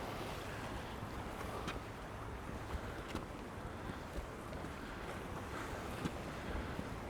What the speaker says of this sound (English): Actually a few waves as well, lapping up against the rocks.